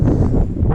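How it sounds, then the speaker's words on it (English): Strong wind buffets the microphone outdoors among stones, a loud, continuous low rumble with gusty swells and no voices. "I just talk about the wind, guys, because it is blowing really hard."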